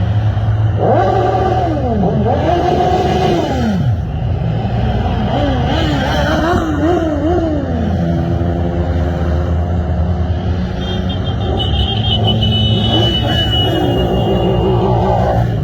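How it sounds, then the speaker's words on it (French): Engines rev repeatedly to the rev limiter in a loud, rising-and-falling pattern, several motorcycles close by at a motorcycle festival, with steady engine drone throughout and a brief higher whine near the end. "une très grosse partie n'était là que pour faire des rupteurs et des concours de klaxon"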